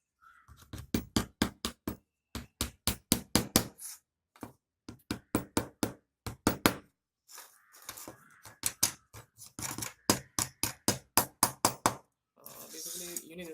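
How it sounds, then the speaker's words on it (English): A large hammer taps staples into a wooden photo frame during a DIY woodworking job. It makes quick bursts of sharp, close knocks in steady runs with short pauses between them, and a voice speaks briefly near the end. "alright, so then I'll use the hammer."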